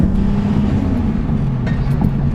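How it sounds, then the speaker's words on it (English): Lexus Aristo with a manual gearbox pulling in second gear, a steady loud engine drone with a faint hiss near the end that may be the blow-off valve. "we're going to do a little second gear pull to show you the blow-off valve noise"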